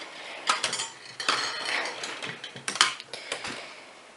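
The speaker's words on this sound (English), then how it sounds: "You just got to grab your wire and cut." Wire being handled and snipped while making a wire spider web, close metallic clicks and rattles in quick irregular bursts, with a few sharper snaps standing out and no voice.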